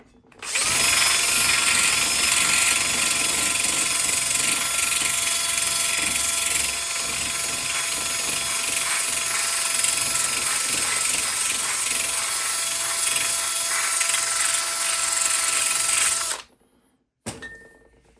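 A power tool fitted with a wire brush whines at a high steady pitch while scrubbing an electric water pump, running continuously for about sixteen seconds with slight load changes, then cutting off with a brief final burst.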